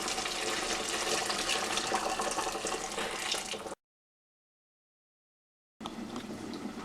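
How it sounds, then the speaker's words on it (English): Water from boiling fish is poured into a pan of spice-sautéed potato curry, a steady rushing splash of liquid that stops abruptly for a couple of seconds and then resumes. "Adding the water."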